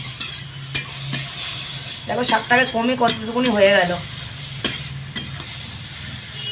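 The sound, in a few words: frying radish greens in a pan, stirring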